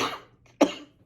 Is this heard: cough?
yes